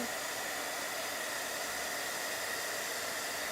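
An embossing heat gun blows hot air steadily over fabric to dry it, a loud, even hiss that holds unchanged from start to finish with no one talking.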